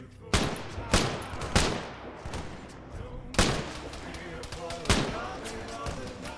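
Heavy gunfire in a military video game: loud, sharp shots crack out at uneven intervals, some in quick pairs, over a steady rumbling background with faint talk underneath.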